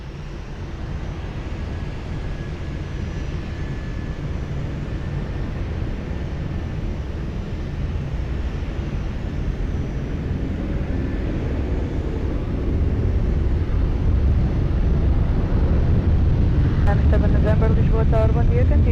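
Jet airliner taking off from runway 20 at Lisbon Airport, a steady broad roar heard from a distance that swells louder toward the end, with faint radio-like voices in the background.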